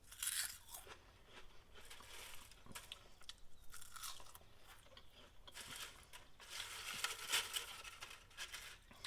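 Crispy air-fried kale crunched and chewed up close, a steady run of dry, brittle crackles and bites lasting several seconds with no talking over it.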